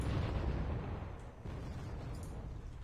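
A Merkava tank hit and destroyed in Wargame: Red Dragon: low rumbling explosion and battle noise, a dull boom fading into a sustained roar, moderately distant.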